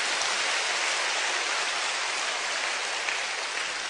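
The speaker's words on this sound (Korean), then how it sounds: "박수 쳐주셔도 좋습니다." Audience applause at a Korean church testimony concert, a dense, steady wash of clapping that stays loud and even throughout with no voices over it.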